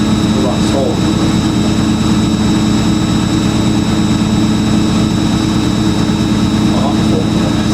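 An Indesit Ecosense washing machine spins fast at 1100 rpm, a loud, constant, droning whir with a steady high whine running throughout at close range.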